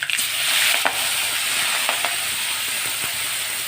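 Cumin and mustard seeds crackle in hot oil as turmeric, asafoetida and chopped radish leaves go into the pan, making a loud close sizzle with scattered sharp pops and spatters.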